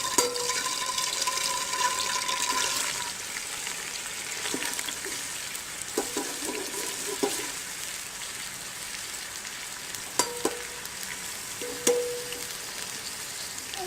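Chopped onions sizzle and crackle steadily in hot oil in a pan for jungle pulao, a continuous close hiss with occasional louder pops and stirring sounds.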